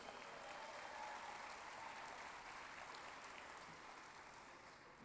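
Steady applause from a crowd at a high school sports awards ceremony, a dense continuous wash of clapping that holds evenly and fades slightly toward the end, fairly distant.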